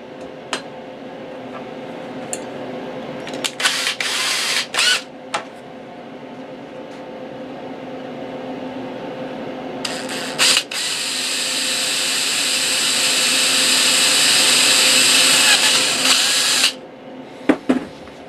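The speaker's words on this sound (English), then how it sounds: "Now I can drill my quarter inch hole." A power drill bores a quarter-inch hole while fitting a headphone jack to a metal detector, with short trigger bursts early on, then a long sustained whine that builds before stopping, close and loud.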